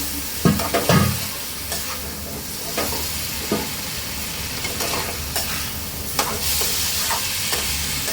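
Boiled potato and papaya are stir-fried with spices in a hot pan, under a constant loud sizzle. Scraping stirs recur, with a few sharper knocks early on, and there is no talking.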